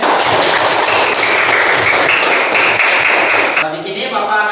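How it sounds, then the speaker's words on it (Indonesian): Students in a school classroom clap loudly and densely together in a sustained burst close by, ending abruptly, with a voice speaking afterward. "Tepuk tangan untuk semuanya."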